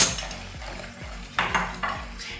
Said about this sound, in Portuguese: Aqui eu já posso acrescentar os 3 ovos. Vamos misturar a gema.